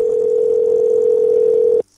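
A steady continuous telephone tone sounds loud and alone for nearly two seconds, then cuts off abruptly into silence.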